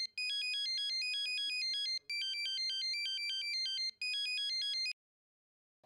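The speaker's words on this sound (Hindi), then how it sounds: "ये किसका मोबाइल बजा?" Mobile phone ringtone going off in a classroom, a loud electronic melody repeating in three bursts with brief gaps before stopping.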